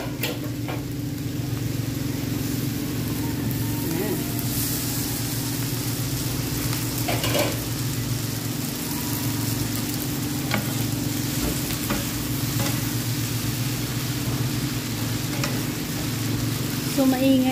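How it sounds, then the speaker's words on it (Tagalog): Pancit noodles with half-cooked vegetables stir-fried in a pan, a steady sizzle with scraping stirring, over a constant low engine hum from nearby rice harvesting. "ilagay natin ang ating noodles"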